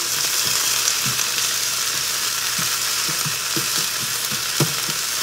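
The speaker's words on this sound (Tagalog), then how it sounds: "ilagay na natin tapos mag-toast tayo ng tinapay" Bread toasting in a frying pan, a steady close sizzle and crackle of frying with scattered light clicks and scrapes throughout, no voices.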